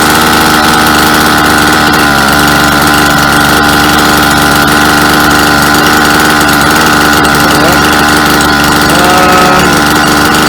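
Small engine on a Japanese Abarebugyo machine runs loud and close, a steady droning hum whose pitch sags slightly as the revs ease off toward the end.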